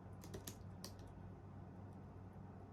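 Someone types on an iPad keyboard, producing a few quick soft key clicks near the start and then quieter tapping over a faint background hum, close and low in level.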